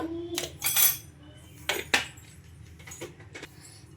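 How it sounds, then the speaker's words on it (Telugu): Metal whisk clinking against a bowl while mixing a salted batter, several sharp scraping taps in short bursts, close and fairly quiet, with no talking. "ఇంక ఇప్పుడు బాగా ఒకసారి కలిపేసుకున్నామండి ఇలా విస్కర్తో"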